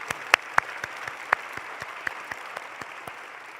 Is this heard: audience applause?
yes